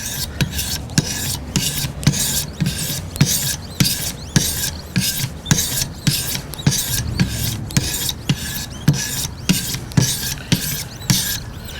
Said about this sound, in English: flip over and hit it with the 1000. You should be able to hear a difference here in the grind as well